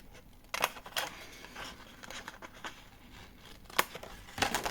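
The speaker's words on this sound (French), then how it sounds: "Donc là, j'ai plus qu'à découper." Scissors snip through scrap paper for scrapbooking in a quiet room, a few sharp separate cuts with soft paper rustles between them, close and fairly faint.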